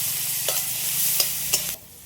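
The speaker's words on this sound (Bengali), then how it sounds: "লঙ্কাটা একটু ভাজা হলে এবার দিয়ে দিচ্ছি টমেটো কুচি।" Chopped tomato frying in a pan with butter and dried red chilies, a steady close sizzle with a few sharp spatula stirs scraping through it before the sound drops off.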